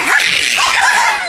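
An angry chihuahua lets out a quick, sharp, high-pitched bark or yip, close and loud, in a single brief burst.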